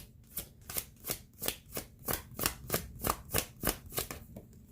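Oracle cards are riffled and shuffled by hand in about a dozen quick, evenly spaced bursts, close and crisp, with no talking.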